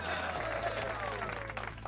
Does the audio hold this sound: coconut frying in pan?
no